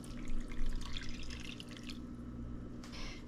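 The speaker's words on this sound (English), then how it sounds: "And then I'm gonna dump this water in this bowl with the vinegar." Hot water poured from a pot into a bowl holding vinegar, a close, steady splashing and trickling pour that fades toward the end, with a brief bright splash near the finish.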